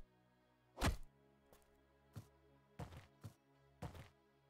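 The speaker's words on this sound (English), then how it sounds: "Now I'm gonna destroy this wall." A wall is smashed apart in the medieval building game Medieval Engineers: a handful of faint, dull thuds and thwacks land at irregular intervals over a quiet background, with no talking.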